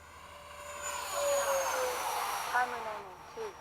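A Freewing 90mm F-22 RC electric ducted-fan jet flies at a field in near darkness, its whine rising and falling as it passes close and pulls away, steady and fairly loud without speech.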